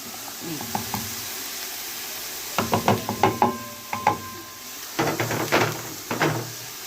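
Onion sizzles softly in a hot pan on a home stove while a cook stirs it, with several clattering knocks of utensil and cookware over the steady hiss.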